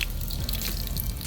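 Water drips and trickles from shoes being rinsed outdoors with a garden hose, a fairly quiet, steady patter of wet splashes with no voices.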